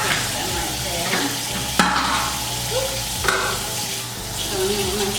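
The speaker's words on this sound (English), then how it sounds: "So now I'm going to rinse off the little sink stoppers." Small kitchen sink stoppers rinsed under a steady rush of running water in a home sink, with a couple of light clinks as they are handled.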